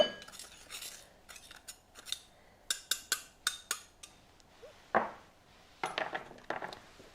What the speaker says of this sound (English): just give it a quick stir